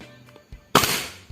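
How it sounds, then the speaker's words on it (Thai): A single sharp gunshot-like crack from a Beretta M9 airsoft pistol fired empty without BBs, loud and close, with a brief noisy tail and faint clicks before it. "ลองยิงเทสนะครับ อันนี้ยิงเปล่านะครับ ไม่มีกระสุนนะครับ"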